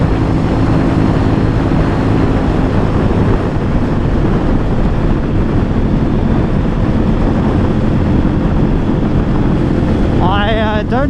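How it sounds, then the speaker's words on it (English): A KTM Duke 790 motorcycle at speed on a highway, with loud, constant wind blast roaring over the microphone and the engine's hum buried beneath. A short burst of voice comes through near the end. "I don't often ride super fast on this bike, just purely because the wind blast is pretty uncomfortable."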